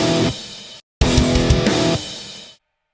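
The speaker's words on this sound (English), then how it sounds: "If I wanted a few extra kick drums, I could copy the notes across" Programmed MIDI drum pattern in Reaper with extra kick drums copied in, a short loud burst of punchy kicks and cymbal wash, a brief gap, then another dense beat that fades out.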